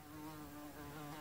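A housefly buzzing around indoors, a thin continuous whine that holds steady for about a second, faint and close with no talking.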